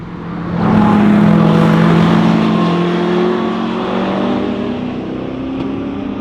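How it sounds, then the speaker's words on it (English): Caterham and Corvette sports cars roar past on the Susten Pass mountain road, engines revving hard and loud, rising sharply then fading as they pull away, with no talk. "That was a Caterham and a Corvette."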